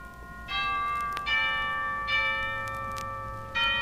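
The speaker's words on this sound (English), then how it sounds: "and chapel bells." Chapel bells ring in a series of resonant, sustained strikes, several overlapping peals with long ringing tails against a quiet background.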